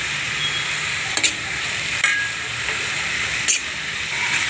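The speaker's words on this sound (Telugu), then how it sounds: "అలాగే పచ్చిమిర్చి కరివేపాకు వేసుకుందాం" Green chillies and curry leaves frying in hot oil for a cashew and boondi curry, a steady close sizzle with a few brief sharp crackles and stirring scrapes, no voices.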